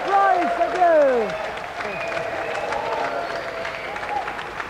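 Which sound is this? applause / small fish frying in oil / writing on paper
applause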